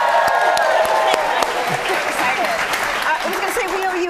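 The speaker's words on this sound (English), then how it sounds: "this is the clappingest group of people I've ever seen in my life" A television studio audience claps and applauds in a dense, steady burst that fills the room and keeps going without a break.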